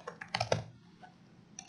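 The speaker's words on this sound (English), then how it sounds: "So I just type in a name." Quick keystrokes on a computer keyboard, a short burst of close, crisp clicks followed by a pause and a couple of fainter taps.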